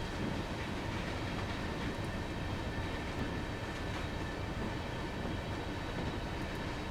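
A Class 31 locomotive in Train Simulator 3 rumbles along steadily with a constant clattering roar and faint rhythmic clicks, filling the whole stretch without any talking.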